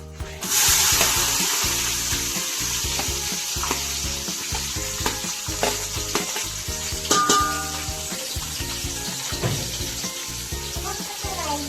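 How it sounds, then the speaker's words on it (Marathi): Chopped onion goes into oil with whole spices for chicken biryani, giving a loud, steady sizzle from start to finish, with repeated stirring scrapes and clinks close by. "खडा मसाला चांगला फ्राय झाला, त्याच्यात आपण कापलेला कांदा,"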